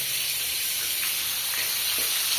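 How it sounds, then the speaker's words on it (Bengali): Turmeric and salt fry in hot oil in a village kitchen, giving a steady, close, loud sizzle that holds evenly throughout and stops abruptly at the end, with no voices. "এটা ভাজা হোক।"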